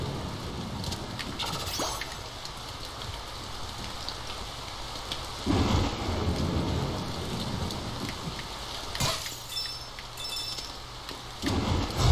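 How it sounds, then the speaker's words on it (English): Ominous rain and rolling thunder in the Freedom Planet video game, a steady wash of rainfall with several low thunder rumbles swelling in and out, no voices. "You can tell because of the ominous rain and thunder."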